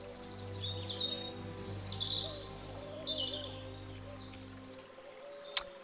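Birds chirp and twitter in a garden scene of the video game Portal of Evil: Stolen Runes, light repeated calls over a steady low ambient music drone, ending with a sharp click.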